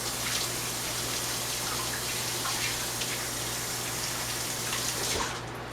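Hands rinsed quickly under a running kitchen tap during strawberry cake baking make a steady, close rush of water with light splashing, cutting off just before the end.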